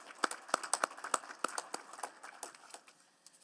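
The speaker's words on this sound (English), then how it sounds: "So let's give them a round of applause and welcome them to City Hall." Scattered, uneven clapping from a small group welcoming grade 6 students and their teacher to a city hall committee meeting, sharp close claps that thin out toward the end.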